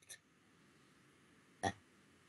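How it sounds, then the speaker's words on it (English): A short, faint throaty burp stands out once against quiet background, preceded by a smaller brief noise. "I just burped."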